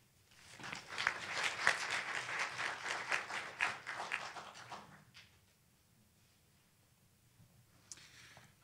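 An audience at a speaker series breaks into applause for about four seconds, a dense, fairly soft wash of clapping that fades out into near silence.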